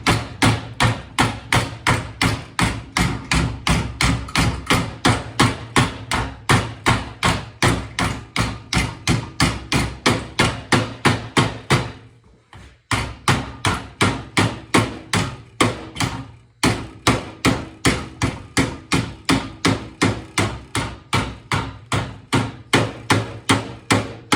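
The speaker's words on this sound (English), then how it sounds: "I like using a rubber mallet. This is actually dead blow." A dead blow rubber mallet hammers aluminum in an engine bay shave job, a long run of fast, even, heavy thuds close by, pausing briefly twice before the rapid steady pounding resumes.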